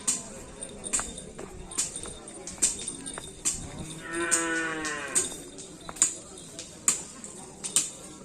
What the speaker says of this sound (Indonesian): ini kayaknya ada sapi yang mau dilepas,